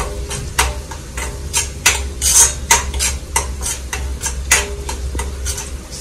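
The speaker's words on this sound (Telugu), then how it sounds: "ఈ అల్లము ఇట్లా ఫ్రై చేస్తుంటే మంచి స్మెల్ వస్తుంది" Ginger frying in a pan is stirred with a utensil, giving repeated sharp scraping clinks against the metal over a low sizzle, close and fairly loud in an irregular rhythm.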